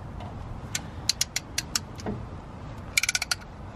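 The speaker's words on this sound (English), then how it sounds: "This is kind of like a ratcheting wind back tool. But you're basically pushing this piston back in." A ratcheting brake piston wind-back tool pushes the caliper piston back in during a front pad and disc change on a Fiesta ST180, giving short bursts of sharp metallic clicks, a few spaced ticks then a fast run of clicks, close and clear.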